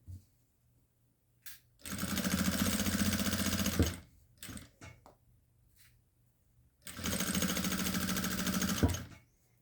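Up close, a sewing machine stitches a fabric hem on cloth in two long, steady runs of rapid mechanical clatter, with quiet pauses and faint handling clicks before, between and after them.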